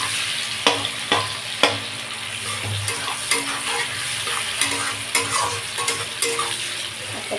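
Onion frying in a pan for a meat curry, a continuous sizzle broken by repeated sharp scrapes and knocks of a utensil stirring, fairly close and with no talking.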